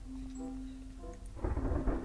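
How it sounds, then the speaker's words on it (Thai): Rain and thunder in the battle royale game PUBG Mobile: a steady wash of rainfall swells into a louder, rumbling burst in the second half, with a faint tonal hum running underneath. "ฝนตกเด้อบรรยากาศนี้น่านอนมาก"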